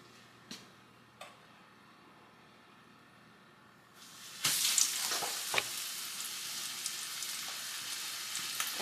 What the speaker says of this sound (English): We need to put some pork chops in that.